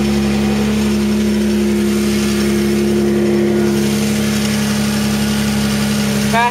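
Mazda MX-3 engine idling with an odd mechanical noise that grows louder as it warms, heard as a steady, close, continuous drone with a strong low hum and a whining tone, no talk.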